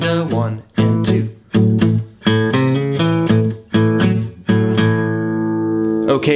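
A rhythm guitar plays a country shuffle in a lesson setting, with bright picked and strummed chords in a bouncing pattern of repeated attacks, ending on a long, sustained ringing chord, loud and close with no other sound.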